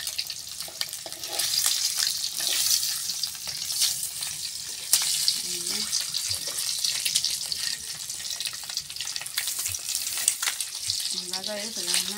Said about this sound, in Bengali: ডিম ভাজা হয়ে গেছে প্রায়।